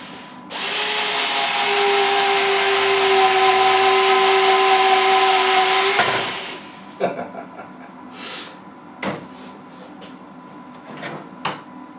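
Automatic electric screwdriver whirring steadily for about six seconds as it strains to drive a screw into very hard wood, then stops, followed by a few sharp knocks and handling clatter.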